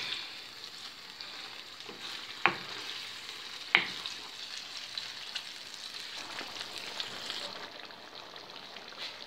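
Meatballs simmering in tomato sauce in a pan give a steady soft frying sizzle, broken by two sharp clicks of a spoon against the pan as the pot is stirred.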